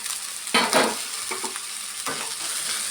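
A spoon scrapes and stirs ingredients into a sizzling mixture in a pan while cooking fresh field-bean (avarekalu) bassaru, with two louder stirring bursts over a steady low fry.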